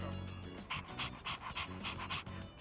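In Persona 3 Reload, a dog pants steadily and rhythmically, its quick breaths fairly close and soft with no talk over them.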